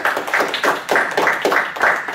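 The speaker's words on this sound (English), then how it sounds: "let's give them another round of applause" Applause at a climate justice fellows session, a small group clapping in distinct rhythmic bursts that swell and fade several times, fairly close and clear with no talking over it.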